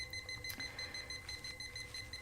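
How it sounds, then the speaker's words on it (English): A kitchen timer beeps in a fast, steady repeating pattern while it is set during dinner cooking. The beeps are quiet and thin and fill the whole short stretch with no talking. "So setting my timer."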